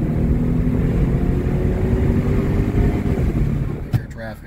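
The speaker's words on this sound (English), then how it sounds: "I hear traffic." Road traffic makes a steady, close broadband rumble that holds evenly for several seconds before easing off, ending in a couple of sharp clicks.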